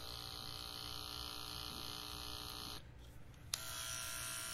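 A cordless hair clipper hums with a steady, close electric buzz, drops out briefly near the end with a click, then starts buzzing again, no talk.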